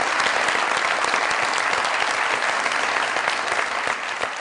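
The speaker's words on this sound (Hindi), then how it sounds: "बहुत सारी तालियों में वेलकम कीजिएगा जनाब" A studio audience at a Pakistani comedy talk show gives sustained, dense applause to welcome guest Mian Javed Latif, loud and steady throughout with no talk over it.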